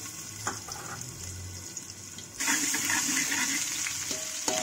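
Garlic-ginger paste fries in hot oil for a mutton curry, a close, steady sizzle that gets noticeably louder and fuller about halfway through, with no talking.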